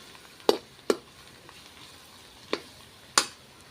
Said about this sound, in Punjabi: ਹਾਂਜੀ ਪਿਆਜ਼ ਆਪਣੇ ਭੁੱਜ ਰਹੇ ਹਨ